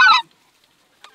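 Geese give one loud, close honk during an early-season speckle-bellied and snow goose hunt, followed by silence and a faint short call at the end.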